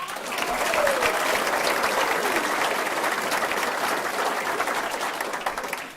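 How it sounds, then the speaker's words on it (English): A school board meeting audience gives a sustained round of applause for school semifinalists, dense clapping that holds steady for several seconds, with a faint voice briefly audible. "Let's have one more round of applause for all of our amazing semifinalists."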